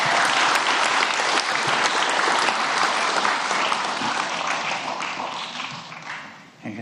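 An audience gives a strong round of applause for a woman's 87th birthday at a gathering with Pope Francis, dense and sustained, fading slightly near the end.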